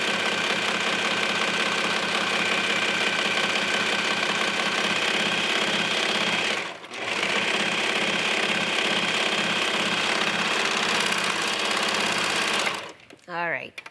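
A sewing machine runs a long, steady stretch of stitching along a leggings seam in stretch thread with a scant quarter-inch allowance, a brief pause near the middle, then stops near the end.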